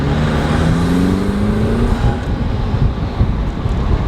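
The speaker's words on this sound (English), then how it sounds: "you can actually hear that turbo" A turbocharged Jeep Wrangler engine accelerates with the roof off, a loud, steady roar with rising whine, mixed with wind and road noise throughout.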